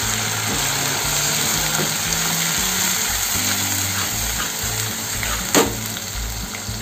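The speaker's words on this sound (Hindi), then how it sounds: "ये टमाटर को अच्छे से हम भून लेंगे, जब तक तेल पूरा ऊपर छोड़ नहीं देता" Tomato puree sizzling steadily as it fries in oil in a pan for a black-eyed pea masala curry, a continuous close crackling hiss with no talk.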